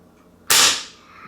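A single sharp, loud crack from a Crosman Diamondback spring-powered air rifle with a strong spring, bursting out abruptly and then decaying quickly into a faint tail, with no talking.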